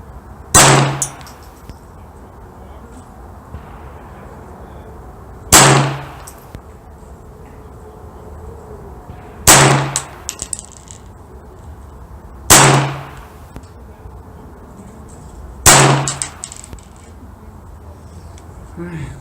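Five sharp, loud .22 shots from a Ruger Mark III handgun at an outdoor range, fired a few seconds apart in even succession with quiet pauses between them.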